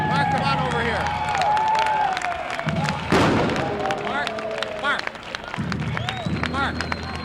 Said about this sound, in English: A nice round of applause for Mark Pauline.